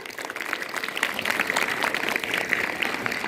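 Applause for the school teachers at a Republic Day celebration in a government high school, a steady crowd clapping that swells and holds at moderate loudness throughout.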